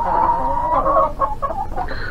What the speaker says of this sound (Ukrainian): Оце в мене такі кури.